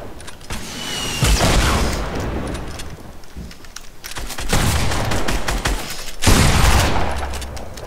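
Dense video game gunfire in a duo match shootout, with rapid bursts and heavy blasts that swell and recede in loud waves across the whole stretch, with no talk over it.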